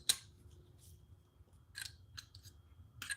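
Knipex cutters snipping through electrical wire, giving a sharp close snip at the start followed by a few fainter clicks and snaps in a quiet room.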